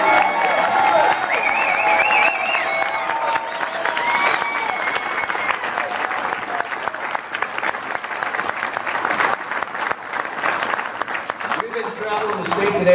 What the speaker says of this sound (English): let's give another round of applause for this great